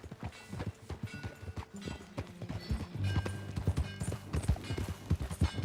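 Horse hooves clip-clop in a quick, steady rhythm, moderately close, with the faint jingle of tack and no speech, in the video game Red Dead Redemption 2.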